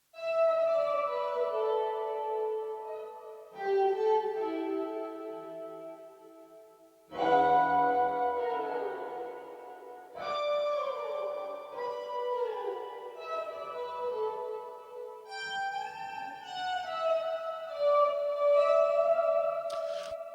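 Electric guitar played through a Line6 Helix floor unit on a string-like swell patch with two pitch shifters, producing slow swelling sustained chords that bloom and fade in overlapping layers, shimmering with shifted harmonies, alone without talk.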